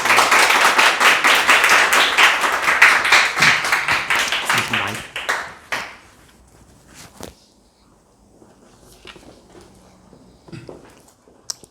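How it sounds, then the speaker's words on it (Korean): A church congregation at Sunday worship claps loudly and steadily for about five seconds to welcome a visiting pastor, then the applause thins to a few scattered claps and quiet shuffling in the hall. "우리 목사님 나오실 때요 우리 큰 박수로 한번 환영해 드릴게요"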